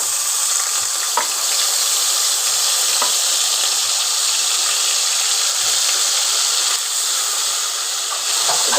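Onion and garlic paste frying in hot oil gives a steady, loud, close sizzle with a constant bright hiss and small crackles throughout, no voices.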